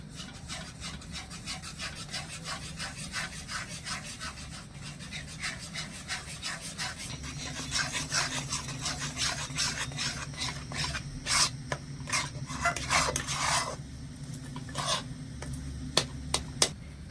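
Semolina is stirred bit by bit into a sweet batter made from ripe palm fruit, giving a steady, close scraping and rubbing in the bowl that grows busier and louder midway, with no talking.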